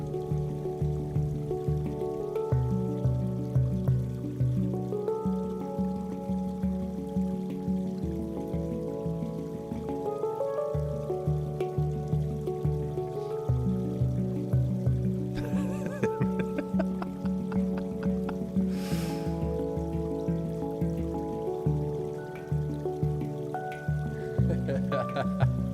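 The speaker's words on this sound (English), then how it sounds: "We've got the water in the background." Water runs continuously in the background indoors, a steady even flow that holds at a constant level throughout.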